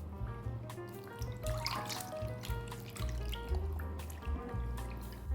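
Pork skin rinsed under running water in a kitchen sink, with close trickling and dripping water and small splashes and handling sounds throughout.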